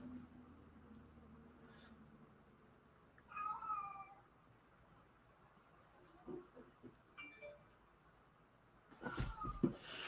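A cat meows several times indoors, a couple of drawn-out, wavering cries spaced apart, fairly close, with a louder burst of rustling or handling noise near the end.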